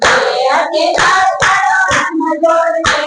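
Firm two-handed clapping beats a regular rhythm beneath group singing of a Krishna devotional song. Each clap is loud and close, falling evenly about every half second while the voices carry on.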